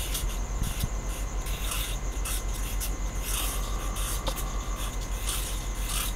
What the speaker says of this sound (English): so let's write it down